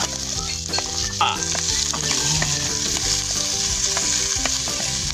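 Snail meat with ginger sizzles and fries loudly in a pan, a steady close crackling hiss with stirring and clinks throughout, no voices.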